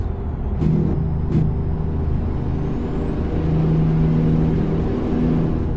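A Kenworth T909 truck's engine rumbles steadily in American Truck Simulator while a sharp burst of air-brake hiss cuts in twice, and a thin rising electronic whine from an engine brake sound glitch runs over the top.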